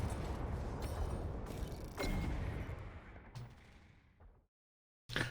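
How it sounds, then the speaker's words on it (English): Booming thermal bomb explosions and gunfire-like blasts in the Outriders video game demo, a dense loud barrage of several bursts that cuts to silence near the end before one last burst. "Thermal bomb is a lot of fun."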